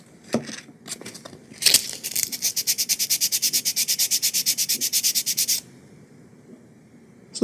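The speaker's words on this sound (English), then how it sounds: "What I'm going to do is just lightly sand that to fill that little void there." Sandpaper rubs back and forth by hand on a guitar bridge in a fast, steady rhythm of about two dozen strokes, close up, after a few scattered taps and scrapes.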